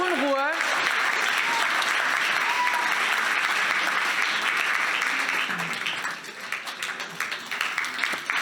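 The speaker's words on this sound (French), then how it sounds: "On peut les applaudir encore une fois" Sustained crowd applause at a film award nominations night, loud and dense from start to finish and thinning slightly toward the end, with a brief voice at the very beginning.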